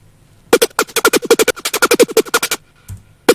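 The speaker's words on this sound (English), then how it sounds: "And white noise gives it completely different feel to it." A synth laser bass layered with white noise, hitting a rapid string of short, punchy notes with a hissy, airy top for about two seconds, followed by a pause and a stray low hit near the end.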